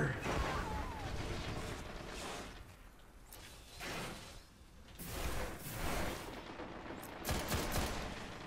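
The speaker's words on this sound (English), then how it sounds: "High impact fusion rifle, slow charge rate, but it is. It is a beast." A high impact, slow-charging fusion rifle fires repeatedly in a Destiny Crucible match, dense bursts of gunfire and whooshing energy blasts layered with a voice talking over the continuous loud action.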